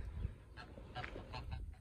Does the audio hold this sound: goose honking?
yes